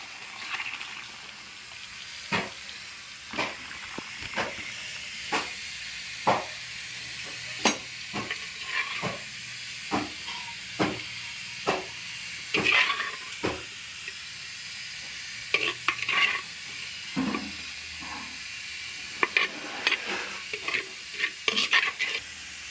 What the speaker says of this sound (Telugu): పోపు వేగిన తర్వాత శుభ్రంగా మరిగిన లక్ష్మీ చారుని పోపులో వేయించుకోవాలి